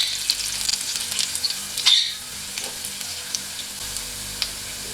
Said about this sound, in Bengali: তারপর আমি প্রথম দিয়ে দিচ্ছি রসুন কুচি।